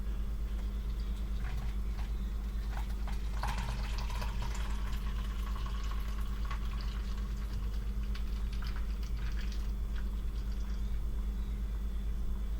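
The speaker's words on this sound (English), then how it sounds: "now I pour this hot water into this cup" Hot water poured from a kettle into a cup, a faint steady trickle and splashing over a low background hum, with no talk.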